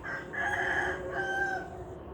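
A rooster crows at moderate distance, its call breaking into two stretched phrases against a low ambient rumble.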